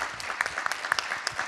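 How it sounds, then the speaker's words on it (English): Audience applauding the final panel of the day at an immigration and border forum, a brief burst of scattered claps at moderate volume, fairly thin and irregular. "Let's give a round of applause for our final panel of the day."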